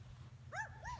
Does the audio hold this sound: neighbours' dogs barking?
yes